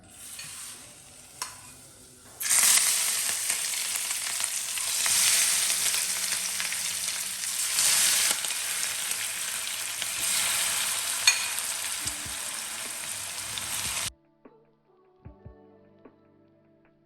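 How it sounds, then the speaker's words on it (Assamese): Marinated onions fry in hot oil for a homemade chicken roast, giving a loud, steady sizzle for about twelve seconds with stirring sounds. The sizzle then cuts off, leaving near silence with a few small clinks. "তেলখিনি ভালকৈ গৰম হোৱাৰ পিছত আমি প্ৰথমতে যোনখিনি পিয়াজ আমি মেৰিনেট কৰি থৈছিলোঁ সেই পিয়াজখিনি ইয়াতে ভালদৰে ভাজি ল'ম"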